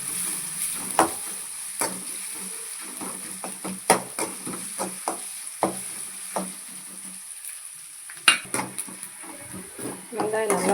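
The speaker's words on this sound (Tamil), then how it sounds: "ரெண்டு பெரிய வெங்காயம், வெங்காயத்தை நல்லா வதக்கிக்கலாம்." Two large onions being sautéed in a pan for a radish and prawn gravy: irregular scraping clicks and knocks of a spoon stirring against the pan over a faint sizzle, with a voice talking at times.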